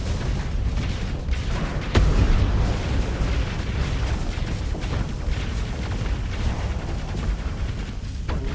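Ship explosions in the space combat game Starsector, a dense continuous rumble of booms and blasts with one sharper burst partway through, loud and sustained.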